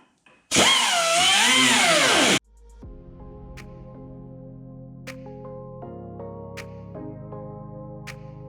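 A power tool screams loudly for about two seconds while cutting a notch in metal for a tensioner pulley, then stops, leaving a quieter mechanical hum with faint clicks.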